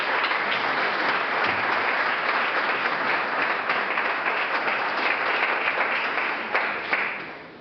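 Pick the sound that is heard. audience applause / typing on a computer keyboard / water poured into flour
audience applause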